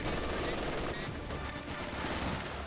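Gunfire in a Company of Heroes 2 battle, with dense machine gun and rifle fire rattling continuously under a steady wash of battle noise, and faint speech mixed in.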